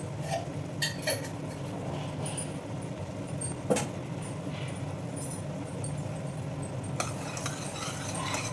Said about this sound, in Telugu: ఇప్పుడు నెయ్యి కూడా వేస్తాను చూడండి